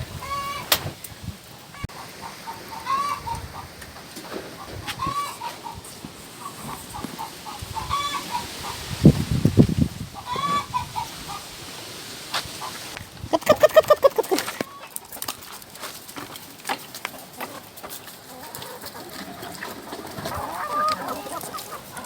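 Chickens cluck and squawk continuously on a village farm, several birds close by in overlapping calls with a louder burst midway, against outdoor background noise.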